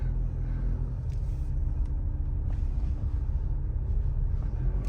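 A car rolls over speed bumps with a steady low rumble and occasional dull thumps from the suspension, heard from inside the vehicle.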